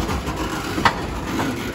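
A very long train of 70 to 80 car-carrier wagons rolls past a road crossing, giving a continuous low rumble with faint wheel clatter and one brief sharp click midway.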